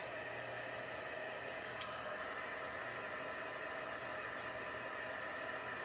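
A heat tool blows a steady, even rush of hot air to dry paint on wall art made from paintbrushes, a constant whirring hiss at moderate distance with no breaks.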